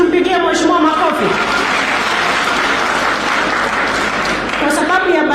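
An audience claps loudly and continuously at a Nairobi women's gathering with a Cabinet Secretary, applause rising to a full wash under a speaker's voice at the start and end.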